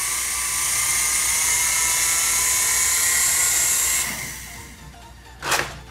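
A cheap five-dollar gyro-stabilized remote control helicopter spins its rotor with a high, steady whine for about four seconds, then the motor cuts and it falls quiet apart from a short burst near the end.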